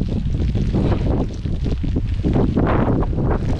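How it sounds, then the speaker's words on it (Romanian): Strong gusty autumn wind in a forest, with cold rain, roars and buffets the microphone continuously, loud and rough with no voices. "și un vânt năprasnic"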